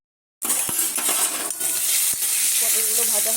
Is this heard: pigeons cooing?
no